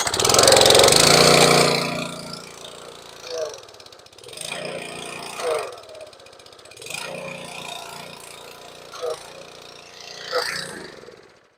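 Kohler-powered pressure washer with a newly replaced pump running, a loud steady engine drone that drops to a rougher throbbing idle, broken by several periodic surges and mechanical clanks, close to the machine.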